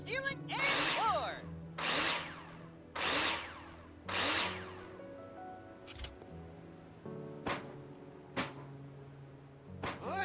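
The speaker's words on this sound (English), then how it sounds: "Now place them in the hologram and screw them in with a drill." A power drill drives screws into metal wall profiles during partition-wall building in the video game Builder Simulator, giving four close whirring bursts in steady succession, followed by a few sharp clicks over a quiet background.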